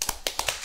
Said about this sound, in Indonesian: Wah, tepuk tangan dong.